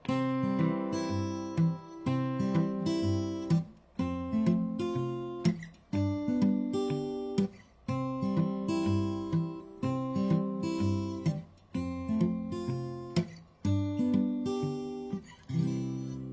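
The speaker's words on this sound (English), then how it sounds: "spelling out kind of arpeggios with your fingers while keeping the thumb going" A steel-string acoustic guitar is thumbpicked, with a steady alternating bass from the thumb while the fingers spell out bright arpeggios above it. The pattern repeats in a clear, even rhythm, played up close and alone.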